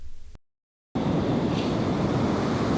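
Surf breaking on the beach at Compton Bay on the Isle of Wight, a steady loud wash of waves with wind buffeting the microphone, broken by a brief silent gap before the roar returns.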